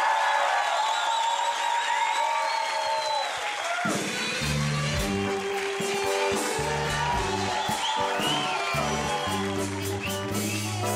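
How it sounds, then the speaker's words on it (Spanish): A comedy-show audience claps and cheers loudly for a comedian coming on stage, with whoops over the applause. After a few seconds, rhythmic music with a steady beat starts up beneath the crowd noise and continues to the end. "Un aplauso gigante para él."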